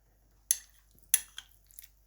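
A spoon strikes the side of a bowl while yogurt garlic sauce with crushed cucumber is being mixed. There are two sharp clinks and a few softer taps, close and isolated, with no talk.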